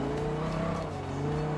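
Car in Forza Horizon 4 accelerating at full throttle, a turbocharged engine producing a steady, loud, continuous drone with a rising tone, heard alone without voices.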